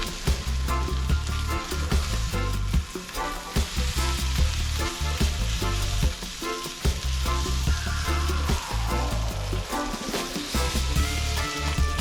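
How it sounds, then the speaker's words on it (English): Chopped home fry potatoes sizzle steadily and loudly in a pan, a dense, unbroken crackle with faint stirring or scraping and no voices. "Chopping will help the home fries both cook faster and brown faster on each side."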